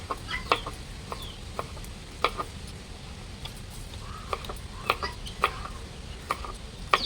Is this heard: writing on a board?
no